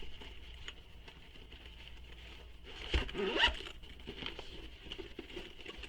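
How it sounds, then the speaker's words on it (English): A zipper runs along the top closure of a sewn fabric bag, one quick close zip preceded by soft handling and rustling of the fabric. "We have a top zipper closure."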